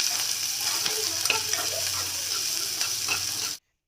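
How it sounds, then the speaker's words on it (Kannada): Onions frying in a pan for a field bean (avarekai) stir-fry, a steady close crackling sizzle with occasional stirring scrapes, running continuously before cutting off abruptly near the end. "ಈರುಳ್ಳಿ ಹಾಕಿ ಅದು ಈರುಳ್ಳಿ ಚೆನ್ನಾಗಿ ಮಾಡ್ಕೊಳ್ಳಿ"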